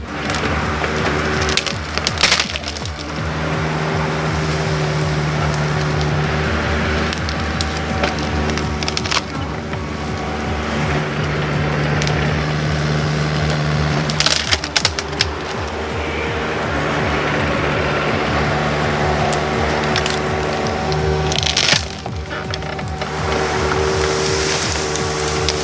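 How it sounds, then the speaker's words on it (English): Vermeer BC 2000 wood chipper shredding trees, with a loud, steady engine drone and repeated cracking and splintering bursts as branches are fed in and chewed up. "Can you believe the way this thing eats trees? It's the Vermeer BC 2000,"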